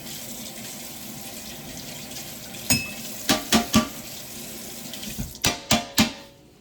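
A pot rinsed under a running tap while cooking fried dumplings with jack mackerel, several short splashing bursts of water striking metal after a quiet start, close and clear.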